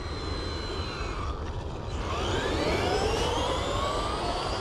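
A Traxxas Maxx RC truck on belted tires makes a high-speed run on a neighborhood street, its whining motor rising and sweeping in pitch as it passes close by, loud and steady with no voices.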